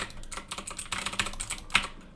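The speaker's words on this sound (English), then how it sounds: "That's why I like spammed keys for a second" Computer keyboard keys hammered rapidly during a Guild Wars game, a dense, fast run of clicky keystrokes filling the whole stretch, close and fairly loud, with one sharper strike near the end and no talking.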